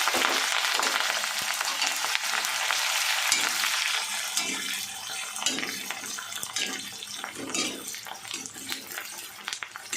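Bay leaves, large onions and green chilies fry in a hot pan: a loud, steady hiss that softens slightly midway, with faint clinks of stirring throughout.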